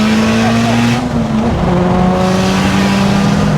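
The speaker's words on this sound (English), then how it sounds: "We give it a third gear pull, so we get the boost to come in." A big-turbo Audi S3 8P making over 600 bhp accelerates hard in third gear, engine droning loudly and rising in pitch, with a brief dip mid-pull before climbing again, close-up.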